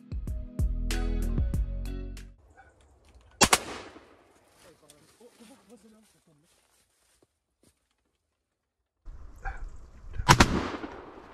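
Two shotguns fire at a flock of wood pigeons during an outdoor hunt: a few sharp, loud reports with echoing tails and long quiet gaps between them, and some faint movement in the quieter stretch.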